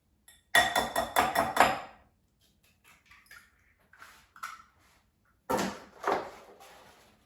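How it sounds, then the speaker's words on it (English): An egg is tapped against the rim of a bowl, a quick run of sharp close knocks, then quieter small clicks and another cluster of cracking taps. "So first I'm going to crack one egg in a bowl."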